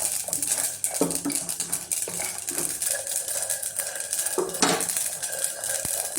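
Sesame seeds tipped into a pan and stirred with a spoon while dry-roasting for dosa chutney, giving steady scraping, clinks and light rattles up close, with a few sharper metallic knocks and no talk.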